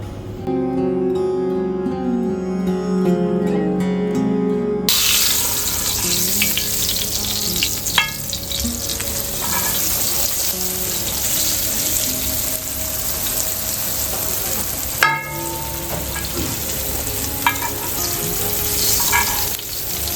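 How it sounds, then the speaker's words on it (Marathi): Surmai fish tawa frying on a hot griddle in a hotel kitchen in Panvel, a loud steady sizzle with a few sharp clacks and scrapes, following a brief burst of music at the start. "छान हा सुरमई तवा फ्राय"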